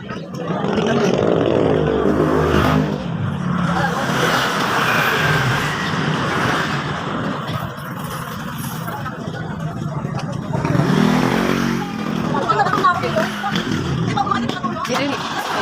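A motorcycle passes through busy street traffic beside a cemetery, its engine rising briefly above a steady drone of vehicles while people talk nearby.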